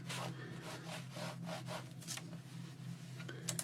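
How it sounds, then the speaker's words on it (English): A cloth soaked in alcohol scrubs ink off a stencil in quick back-and-forth strokes, a soft, steady rubbing close up and quiet. "I've got a cloth and I will just rub it off."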